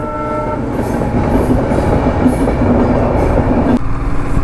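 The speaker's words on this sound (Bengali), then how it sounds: "স্টিম ইঞ্জিনের ট্রেন।" A steam engine train passing close by, a loud rumbling roll of wagons with clattering wheels and a horn sounding, continuous for several seconds without talk.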